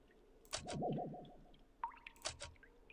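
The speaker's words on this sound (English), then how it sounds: "I have to listen to this drip noise" Dripping water in the video game Your Turn To Die: a few sharp, wet drip hits in pairs, spaced apart over a low wavering tonal drone.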